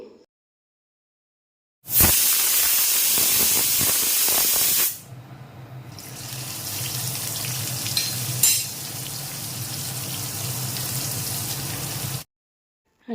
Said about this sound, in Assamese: ইয়াত মই দি দিছোঁ তেল আৰু তেলখিনি এতিয়া গৰম হ'বলৈ দিম